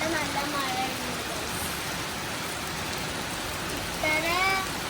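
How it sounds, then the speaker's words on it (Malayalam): Heavy rain pours down as a dense, steady broadband wash throughout, with a voice speaking faintly beneath it at the start and near the end. "ഇവിടെ നല്ല മഴയുണ്ട്."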